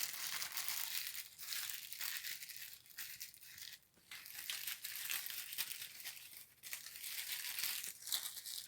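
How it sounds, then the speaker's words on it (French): Paper crinkles and rustles as it is folded over a tuna bread in a kitchen, a near, continuous crumpling with brief pauses, no voices. "Je replie le papier dessus."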